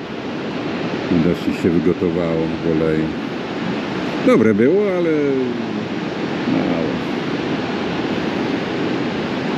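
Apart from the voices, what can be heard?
ocean waves breaking at Haystack Rock, Seaside, Oregon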